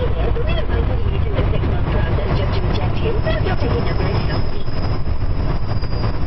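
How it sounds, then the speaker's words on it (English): Freight train brakes squeal in thin, high, wavering tones over a constant heavy rail rumble, with voices talking nearby. "Hear all the squealing from the brakes."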